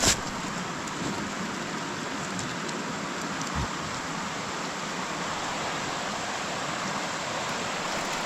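Steady broadband rush of a river flowing nearby in a Carpathian forest after rain, a continuous even wash of water with no speech, and a brief low thump early on.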